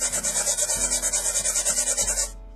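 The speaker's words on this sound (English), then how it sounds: "just get you an emery board" An emery board rasps quickly back and forth across a small Christmas ornament, a close, steady rhythmic scratching of about a dozen strokes that stops abruptly, with no voice.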